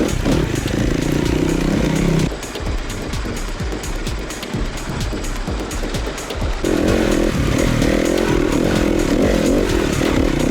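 An SWM RS300R 300cc enduro motorcycle engine snarls loudly up close, revving hard, dropping to a choppy, popping idle in the middle, then climbing back to a raspy high rev.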